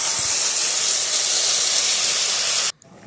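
Cashew and paneer paste hits hot oil in a pan and sizzles with a loud, dense steamy hiss that holds steady for nearly three seconds before cutting off abruptly into quiet.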